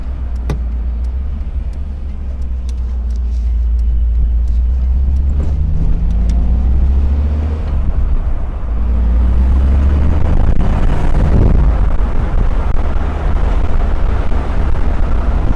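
A 1988 Morgan Plus 8 sports car with a Rover 3.5-litre V8 rumbles steadily from the cabin while driving, its deep engine note rising and falling as it accelerates through the gears, with road noise throughout and no talk.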